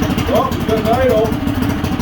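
Honda GX160 small engine, choked from a cold start, running at a steady idle with an even low chug throughout, loud and close, while a voice talks over it.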